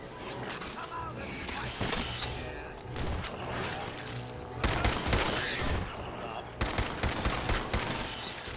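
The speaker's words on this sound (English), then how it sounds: "he starts shooting at me" Video game gunfire, dense bursts of sharp rapid shots with louder volleys near the end, close and fairly steady throughout, with a voice faintly mixed under the shooting.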